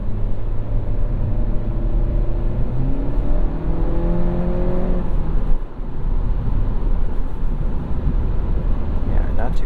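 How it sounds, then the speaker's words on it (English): A 2022 Honda Civic Hatchback accelerates on a test drive, its engine rising in a steady drone with a faint turbo whir over the cabin rumble, continuous and fairly loud from inside the car. "You do also get a little bit of turbo noise,"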